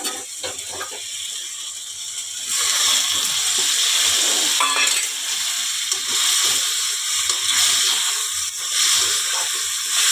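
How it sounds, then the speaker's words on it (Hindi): Spice masala mixed in water hits a hot curry of potato and drumstick (munga) with ledga bari. A loud, close sizzling hiss erupts after a quieter start and continues steadily. "अपने मसाला डालते हुए हैं तो पानी में घोल के डालूँ संगवारी हो।"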